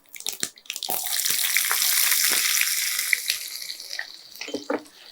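Onions drop into hot groundnut oil with popping mustard seeds for capsicum sambar, a loud burst of close crackling sizzle that swells and then settles, with a few clattering knocks.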